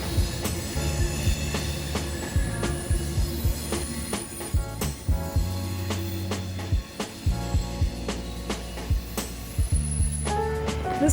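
An Amtrak train pulls into a station, its low rumble and rhythmic wheel clatter rolling steadily with occasional clanks and a rising squeal near the end, loud and close with no talking.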